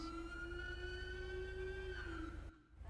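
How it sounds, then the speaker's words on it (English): A police car siren in the FiveM video game wails loudly and steadily with a slowly sweeping two-tone pitch, cutting off abruptly near the end. "toggle the lights and sirens"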